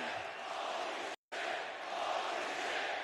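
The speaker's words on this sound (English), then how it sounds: "This crowd went crazy." A packed WWE Raw wrestling arena crowd roars and cheers in a dense, steady wash of noise that cuts out for a moment before surging back.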